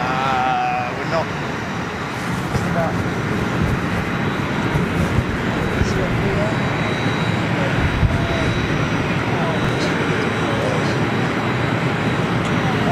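A British Airways Boeing 787 Dreamliner airliner taxis at an airfield, its jet engines giving a steady, moderately distant roar with faint voices in the background.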